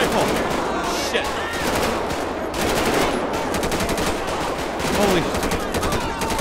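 Rapid rifle gunfire in the police-patrol video game GTA V (LSPDFR), dense bursts of shots crackling almost nonstop through the scene while someone shouts excitedly over them.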